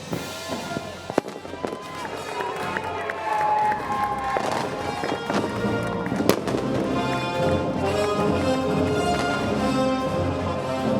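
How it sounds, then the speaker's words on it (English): Fireworks crackle and pop over a dense, echoing crowd murmur, with a few sharp bangs standing out from the steady roar. "Firework display was kind of cool"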